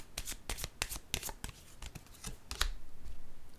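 Tarot cards are handled during a reading, with a run of sharp, close riffling and snapping card sounds followed by a softer continuous shuffling flutter.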